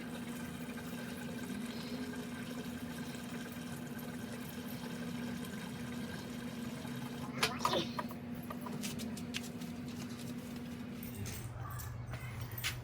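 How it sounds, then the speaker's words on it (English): Gasoline pours through a funnel into a new Costco Yamaha generator. The liquid makes a steady trickle and splash over a constant low hum, with a brief clatter near the end. "When you're pouring, you pull that up, and the gas goes straight down in the funnel"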